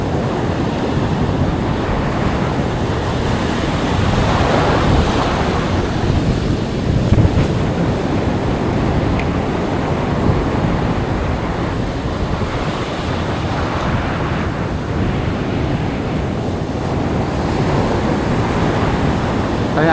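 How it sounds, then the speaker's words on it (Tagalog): Big ocean waves surge and crash in a continuous loud roar while fishing at sea, mixed with gusty wind buffeting the microphone, with no speech over it. "Ang lalaki ng mga alon, no?"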